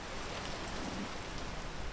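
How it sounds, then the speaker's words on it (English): Steady, dense rain in the video game PEAK, a constant close hiss of falling drops with no breaks and no voices. "Dude, I'm gonna need the rain to stop."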